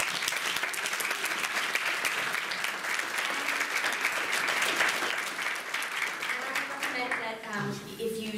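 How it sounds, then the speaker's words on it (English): Sustained audience applause closing a conference panel at a 2020 closing plenary, a dense wash of many hands clapping steadily, with voices and cheering mixed in near the end. "I'd just like to give everybody up here a round of applause"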